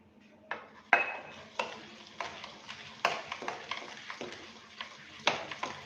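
A spoon stirs 2 to 3 spoonfuls of oil into dhokla batter made from lentils and rice, giving a steady rhythm of close scraping clinks against the bowl, roughly every half second, with no voices.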